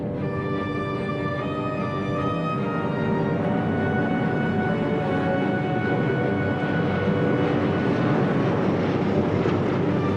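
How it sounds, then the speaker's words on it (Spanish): A B-24 Liberator bomber takes off heavily loaded and climbs away, its piston engines producing a loud, steady droning roar with layered harmonic tones that holds throughout. "Joe Kennedy hizo las maniobras cuidadosamente y el Liberator inició su vuelo."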